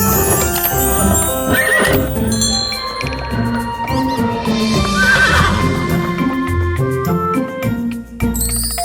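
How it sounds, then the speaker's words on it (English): A horse whinnies over steady hoof clops, with light jingling and a busy musical backdrop throughout. "It's a horse."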